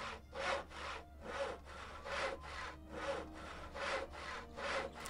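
Wood being sawn with a hand saw in the game Gothic: Chronicles of Myrtana Archolos, about nine even back-and-forth rasping strokes in a steady rhythm, close and alone.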